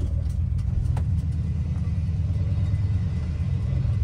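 A 1959 Chevy Biscayne drives with the clutch released, giving a loud, steady low engine rumble and drivetrain drone throughout, with no talking over it.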